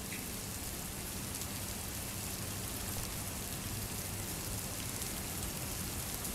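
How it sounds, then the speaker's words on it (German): Rain falling in a survival video game, a dense, steady hiss of drops that holds unchanged throughout, fairly quiet and with no voices or other sounds over it. "Und es regnet schon wieder."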